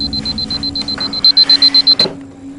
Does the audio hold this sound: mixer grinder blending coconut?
no